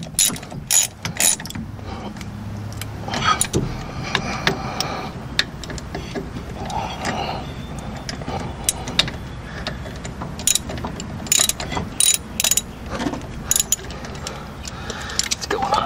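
A ratchet tightens bolts on a VW Beetle drop spindle during a brake install, with bursts of fast close clicking alternating with metallic clanks and handling noises in a garage.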